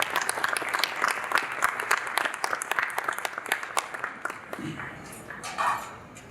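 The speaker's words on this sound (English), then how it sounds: "You also are deserving of a round of applause." An audience at a tribal finance award event applauds, brisk crisp claps rattling for several seconds before thinning out and fading, with a faint murmur near the end.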